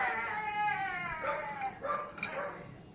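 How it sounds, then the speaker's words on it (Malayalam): Several dogs yelp and whimper in a high, excited chorus off to one side of a home kitchen, with rising and falling cries over faint background noise. "നായ്ക്കളുടെ ബഹളം."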